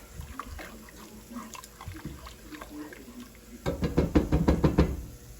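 Instant potato flakes stirred in a pot or bowl, a quick run of brisk scraping strokes near the end after a stretch of quieter handling noise.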